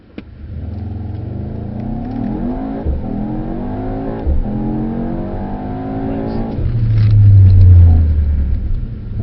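A 630 bhp Mercedes-AMG GT launches hard down a drag strip, the engine climbing through rising revs in loud, steady pulls with a deeper surge near the end, heard from inside the car.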